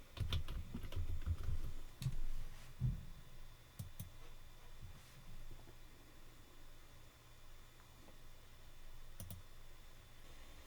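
Someone types on a computer keyboard in quick bursts of clicks early on, then sparse single taps over a low steady hiss.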